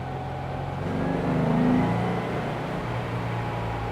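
A restored Porsche 356 engine pulls while driving, its mid-pitched drone rising as it accelerates and then settling into a steady cruise, with road and wind noise throughout.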